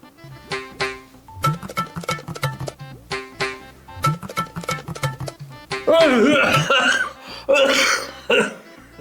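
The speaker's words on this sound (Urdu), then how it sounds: "آپ اتنا زور سے کھانسا ہو" A man coughs loudly in a comedy sketch, with several harsh, forceful bursts near the end following stretches of talking voices.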